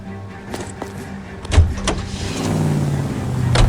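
A car in the video game L.A. Noire starts up and pulls away: a door thud, a short whir, then the engine swells and rises steadily into acceleration, close and without talk.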